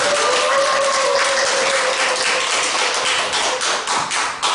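Steady, dense applause from a lecture audience, continuous and fairly loud throughout with no voices over it.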